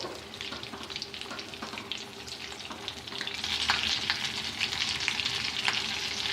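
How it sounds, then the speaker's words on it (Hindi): Potato kababs fry in oil, a steady close crackling sizzle that grows louder and busier partway through, with no talk. "अब दूसरे साइड भी गोल्डन ब्राउन हो जाएंगे"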